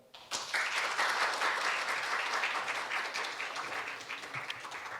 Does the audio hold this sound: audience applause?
yes